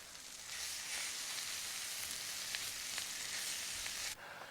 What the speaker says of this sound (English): And give it all a good old stir